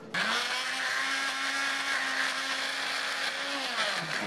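Electric blender grinding panada filling with cooking oil and no water, a loud, steady whirring drone running continuously before cutting off at the end.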